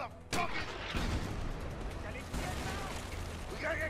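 A grenade launcher fires in the action game A Way Out, with a heavy, booming blast followed by further loud thumps and rumbling over a dense battle din, while voices talk in the background.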